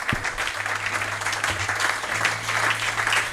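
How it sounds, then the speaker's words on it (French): A church congregation applauds in praise of Jesus Christ: dense, sustained clapping from many people, filling the room evenly for the whole stretch, with a faint low drone underneath. "Acclamons Jésus-Christ."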